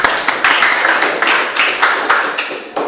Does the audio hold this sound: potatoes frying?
no